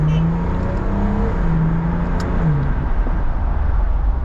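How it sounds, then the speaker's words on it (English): A 2008 Audi TT Roadster MK2 engine drones steadily while driving, a low continuous hum with slight pitch shifts as revs rise and fall, heard from inside the car with road noise. "It does make a great noise, the engine"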